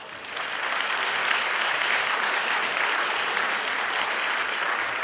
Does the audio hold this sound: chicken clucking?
no